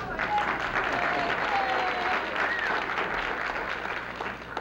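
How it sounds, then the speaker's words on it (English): An audience at a congress hall applauds committee members as they walk up to the microphone, with steady, sustained clapping from a large crowd throughout. "don't be fearful of applauding them as they come up to the mic"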